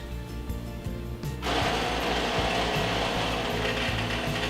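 A home espresso machine starts its pump partway through, switching from a soft rhythmic clicking to a loud, steady vibrating hum and buzz while extracting a shot, close by and unbroken.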